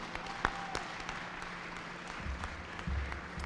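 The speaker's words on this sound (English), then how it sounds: "So join me in giving them a big round of applause." A crowd applauds the team behind a new light rail vehicle at an unveiling event, soft diffuse clapping from a distance under low rumbling background noise, with a few louder isolated bumps.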